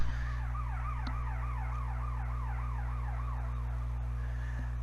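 An ambulance siren wails in a steady, rapid up-and-down cycle over a constant low engine hum, holding loud and close for several seconds with no voices.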